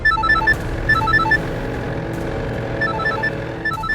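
A phone ringing in a Hindi TV drama scene, bursts of bright electronic ringtone tones repeating in short groups over a loud, busy dramatic music bed, with no talk.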